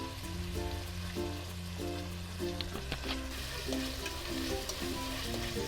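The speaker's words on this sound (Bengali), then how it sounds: "আমার সবজিগুলো ভাজা হয়ে গেছে।" Vegetables for chicken chowmein fry in a pan with a soft continuous sizzle, faint and steady beneath a melodic background music track, with occasional light crackles.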